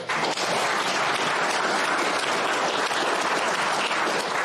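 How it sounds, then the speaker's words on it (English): A conference audience bursts into thick, sustained applause for a speaker after a talk on secure software development, loud and even throughout with no pause. "Good round of applause."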